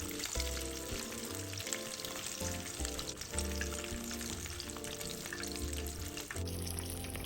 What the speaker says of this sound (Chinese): 油炸至顏色均勻金黃即可撈起，瀝油即可享用。